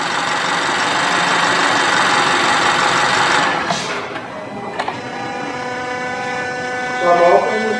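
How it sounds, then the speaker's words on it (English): A 2018 Honda Fit with a 1.5-liter GDI engine running a P0172 rich fault, its engine humming steadily and then shifting pitch as the throttle is opened, close and fairly loud with no talk over it. "So I'm opening the throttle now."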